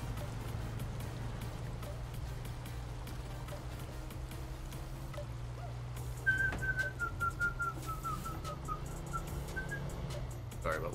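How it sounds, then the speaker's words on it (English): A person whistles a short, wavering tune that starts partway through, heard over a steady low engine drone and faint background noise. "Whistling there, guys. I like this little tune here."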